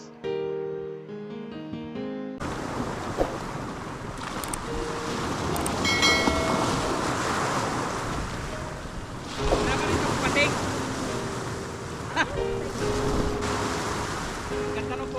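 Sea waves wash onto a beach at Banalo, Lobo, Batangas, a steady broad surf roar with wind buffeting the microphone, after a short burst of music at the start.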